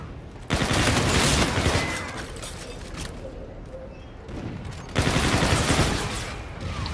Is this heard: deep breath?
no